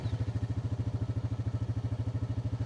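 A 2023 Honda Pioneer 520 compact side-by-side engine runs close by with a steady, rapid low thumping pulse, a loud, even idle chug throughout with no talk.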